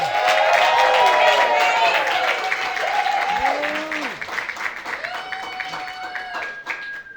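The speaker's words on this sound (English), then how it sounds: "Give a round of applause for Grace Hunziker, please." Sustained applause from a comedy show audience, loud at first and gradually thinning out, with a few whoops and cheers mixed in.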